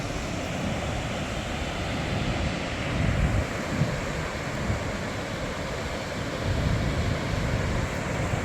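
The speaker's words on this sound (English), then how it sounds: "This is the first of the waterfalls I'll be seeing, two-step falls." Steady broadband rush of a waterfall at Tettegouche State Park on Minnesota's North Shore, a continuous close roar of falling water that stays loud and even throughout, with no voices.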